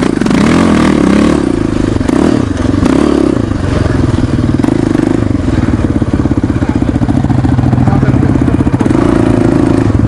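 A Yamaha Raptor ATV with no brakes is ridden with a loud, close engine roar that rises and falls, with rattling and thumping from the rough ride, and voices are heard over it.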